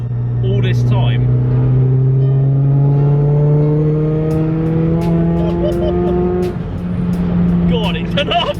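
A turbocharged Nissan S15 accelerates hard on an open road, its engine note climbing steadily through the gears, loud and close, with a brief shift pause and a voice talking over the rising engine.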